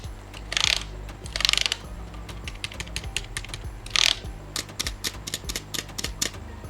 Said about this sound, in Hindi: इस तरह की इसकी कुछ कीज़ की आवाज़ वगैरह है, और ये एक मेम्ब्रेन कीबोर्ड है